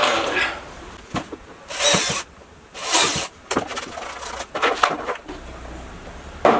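A power drill with a 3.5 mm bit bores holes for a homemade hobby paint-booth extractor. It runs in several short, loud whirring bursts separated by brief pauses, close up.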